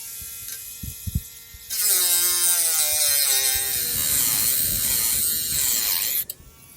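A cutting wheel grinds into the cracked outer edge of a bronze cymbal, starting with a few light taps, then a loud, sustained high-pitched whine and screech that wavers as it bites the metal before stopping abruptly.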